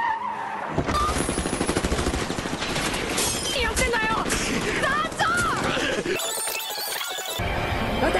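Rapid bursts of gunfire ring out in Shin Bakusou Dekotora Densetsu, a loud, dense barrage of shots mixed with skidding and vocal sounds, briefly dropping out before a final clatter.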